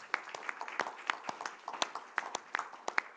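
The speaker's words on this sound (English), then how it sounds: "I'm gonna please ask for a round of applause to Hannah Biro from Bellona" Audience applause for a panel discussant at a policy discussion on carbon capture and storage, a steady patter of scattered hand claps at moderate distance, lasting a few seconds with no talk over it.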